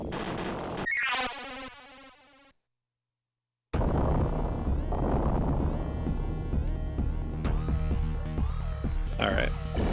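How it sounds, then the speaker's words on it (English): Explosions in the Rocket Knight Adventures escape sequence: a burst of chiptune effects, a brief dead silence, then a loud, sustained wash of crackling blasts and booming game noise layered with music. "Big explosions, big drama."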